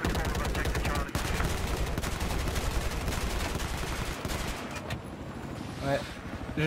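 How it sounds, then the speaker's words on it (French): Gunfire from the military video game Squad rattles in rapid, sustained bursts at close range, easing off near the end, with voices talking underneath. "Je tire mais je touche rien du tout."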